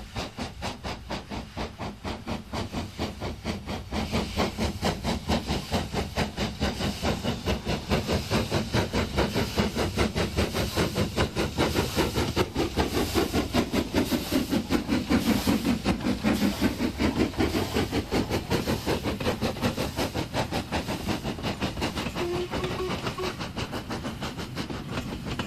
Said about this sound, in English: number 5593 Kolhapur, a member of the Jubilee class, seen leaving Edale on the Sheffield to Manchester Midland line